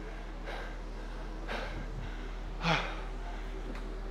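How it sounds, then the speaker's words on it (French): Heavy breathing from a powerlifter still out of breath minutes after a bench press set, with several sharp, close exhalations and snorts spaced about a second apart over a low steady background hum. "comme vous pouvez voir, j'ai fait ma série il y a environ 9 minutes 30 et je suis toujours essoufflé"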